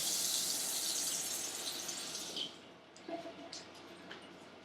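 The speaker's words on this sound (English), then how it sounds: "I'm just going to go ahead and wash my hands" Tap water runs steadily into a sink as hands are washed before a health assessment, a close rushing stream that stops partway through, followed by a few faint clinks and handling sounds.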